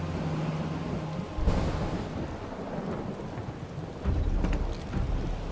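Heavy rain pours steadily in a thunderstorm in the video game Final Fantasy VII Rebirth, with deep thunder rumbles swelling in twice over the dense downpour, no speech.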